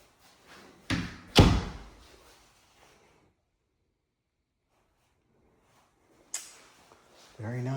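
A toilet door in a new Kendall Homes house in Encino Estates swings and shuts with two sharp nearby knocks and a slam, followed by silence and then another thud and some rustling.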